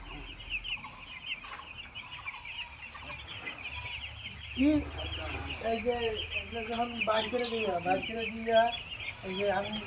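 Eight-day-old broiler chicks in a poultry farm cluck and peep in a steady chorus, growing louder and more distinct in the second half, close by.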